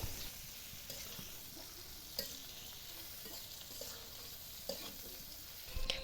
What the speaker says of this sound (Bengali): পটলগুলো আমার ভেজে নেওয়া হয়ে গেছে